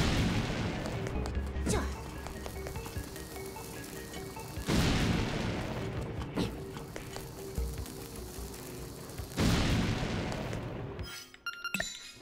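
Bombs blow up in the video game Dink's Awakening: three loud, crackling blasts with a glassy, shattering edge, spaced several seconds apart over a steady game background.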